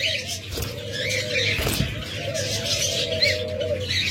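A pair of pure albino red-eyed pet birds coo and chirp nearby, soft repeated calls over a background of other birds at a bird sale, with light chirps scattered throughout.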